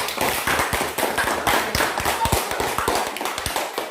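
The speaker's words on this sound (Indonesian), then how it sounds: "tepuk tangan dulu" Applause in a fourth-grade classroom during a lesson: a dense patter of many small hands clapping throughout, steady and fairly close, with no clear voices over it.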